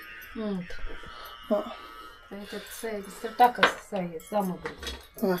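Metal pots and utensils clank and clink as a wok is placed on the stovetop several times, close up, while people talk over the clatter.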